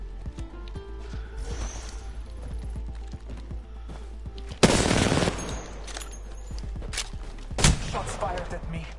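Gunshots in a video game firing at the player: scattered sharp cracks over a low hum, with two loud blasts standing out midway and near the end, and a faint voice in places.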